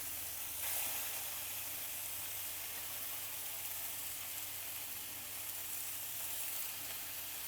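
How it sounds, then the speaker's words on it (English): Chicken skewers sizzling in a hot dry pan, a steady, even hiss of frying that continues throughout, quiet and close with no talk. "Then into our nice hot dry pan, and hear that sizzle."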